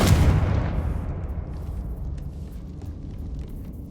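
A Confringo blasting spell goes off in Hogwarts Legacy as a sharp, loud burst that trails into a long rumbling fade with no talking.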